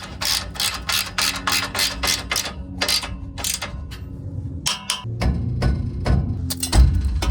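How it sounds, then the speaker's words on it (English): A ratchet wrench clicks rapidly and steadily up close while tightening the bottom nut on a newly welded budget car exhaust, then slows into heavier metallic turns and clunks. "It can loosen this nut, tighten the bottom nut."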